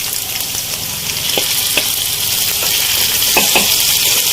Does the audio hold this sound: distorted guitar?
no